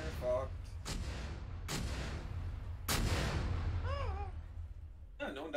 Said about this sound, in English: I hear a mortar.